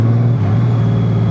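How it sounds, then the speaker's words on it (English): A Honda Gold Wing GL1800 DCT engine pulling from around 1500 RPM in 6th gear gives a steady, loud, low drone with a constant hum that runs unbroken throughout. "We are in a 6th gear, 1500 RPMs, and you accelerate."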